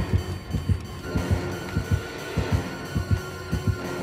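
Rhythmic double-thump heartbeat from the Dead by Daylight video game, repeating steadily about every half second, low and throbbing over a faint game ambience hum.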